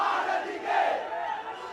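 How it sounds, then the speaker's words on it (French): Hundreds of angry protesters shout together in the streets of Colombo, a dense, steady roar of raised voices with no pauses, loud and close throughout. "Dans les rues de Colombo, des centaines de manifestants crient leur colère."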